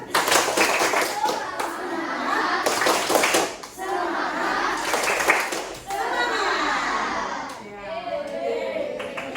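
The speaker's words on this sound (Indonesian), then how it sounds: "Kita tepuk semangat, ya, 2 kali." A school class of children doing a rhythmic 'tepuk semangat' clapping chant in a classroom, bursts of patterned claps mixed with children's voices and a teacher talking, loud and close.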